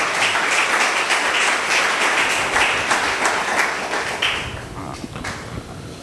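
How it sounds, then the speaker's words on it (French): A church congregation bursts into loud, sustained applause and clapping, a dense crowd sound that holds strong for about four seconds before thinning and fading. "Est-ce qu'on peut acclamer pour la parole?"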